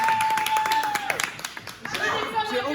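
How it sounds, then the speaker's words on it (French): A small group of people clap in short, uneven bursts while voices talk and exclaim over them, with a thin tonal whine running beneath. "J'ai aucune idée de pourquoi on applaudit."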